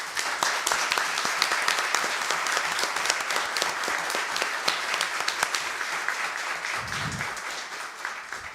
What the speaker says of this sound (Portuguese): Pedir uma salva de palmas,